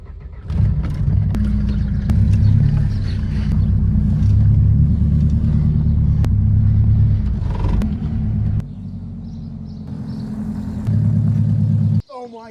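A Mercedes-Benz car engine drones in a low, steady rumble close by while driving on a farm, its tone shifting slightly; a brief clunk near the end.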